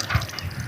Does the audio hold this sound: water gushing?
yes